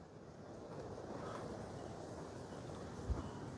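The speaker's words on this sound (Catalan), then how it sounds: "Mare meva, quin vent fa" Strong wind buffeting a phone microphone outdoors at the Camp Nou construction site, a steady broad low roar with constant rumble throughout and a brief thump near the end.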